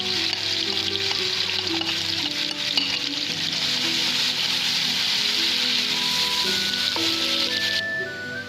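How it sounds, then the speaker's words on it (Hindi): Two medium chopped onions sizzle loudly in a pot with black and green cardamom for a goat-heart dish. Dense, steady frying hiss runs throughout, with occasional stirring clinks and faint background tones. "अब हम इसमें 2 मीडियम साइज की कटी हुई प्याज डालेंगे।"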